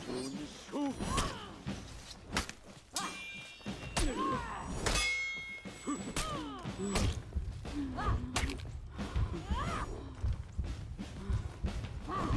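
Sword clashes, whooshes, thuds and grunts in a one-on-one For Honor match, a busy run of sharp metallic hits and swings with voices mixed in.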